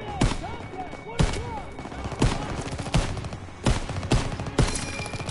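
Rapid bursts of gunfire from the World War II shooter Call of Duty: WWII, with six sharp loud shots spaced about a second apart over a busy bed of battle noise and faint voices.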